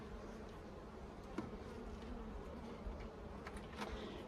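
Honey bees buzz steadily inside a hive in a queen mating nucleus while they build comb, a dense continuous drone with a few brief louder passes close by.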